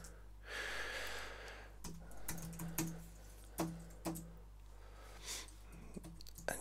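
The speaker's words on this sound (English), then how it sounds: "so start typing again" Computer keyboard typing in a quiet room: a handful of separate, fairly soft key presses spread unevenly across the stretch, with a steady low hum underneath and nobody speaking.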